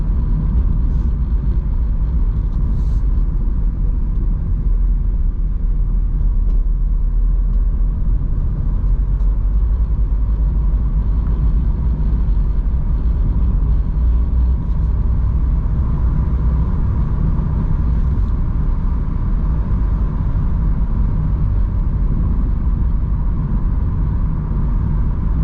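A van drives along a road, giving a loud, steady engine rumble and road noise that stays constant for the whole stretch with no talk.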